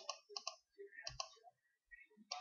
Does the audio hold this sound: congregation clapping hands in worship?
no